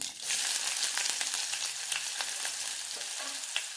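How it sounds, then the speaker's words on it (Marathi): Chopped onion frying in hot oil after mustard seeds, a continuous bright crackling sizzle with small pops, steady and close, no talking. "हा कांदा आपल्या इथे छानपैकी गुलाबी कलर येईपर्यंत इथे फ्राय करून घ्यायचा आहे तेलामध्ये"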